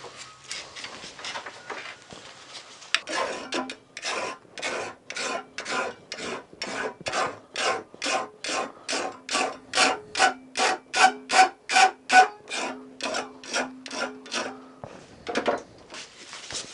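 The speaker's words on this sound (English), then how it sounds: "a crosscut file to clean up the edges. Take the corners off." A crosscut file rasps along the edges of a metal lock plate clamped in a vise with soft jaws, giving a long run of rhythmic back-and-forth strokes that grow slightly louder and faster before stopping.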